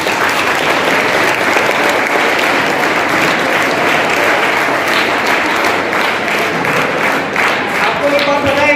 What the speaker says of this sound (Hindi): और आपके टीचर के लिए एक ताली बजा लो सब लोगों के लिए